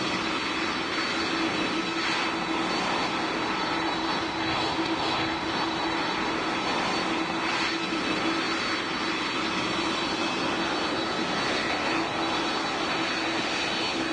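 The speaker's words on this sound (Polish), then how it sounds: "tym samolotem podjechać na pas startowy" An airplane engine in a flight-simulator video game hums steadily as the aircraft taxis toward the runway, a continuous, even drone with no speech throughout.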